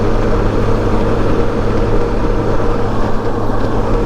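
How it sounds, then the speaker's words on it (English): A Honda Goldwing trike motorcycle cruising on a road, its engine and wind noise forming a loud, steady continuous drone. "I'm riding the Goldwing, as you can see"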